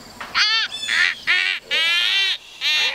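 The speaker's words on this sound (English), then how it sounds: "Go away, bird." A bird calls loudly and close by with a run of harsh, honking, goose-like cries, five or six strained calls in quick succession over about three seconds, with no talking between them.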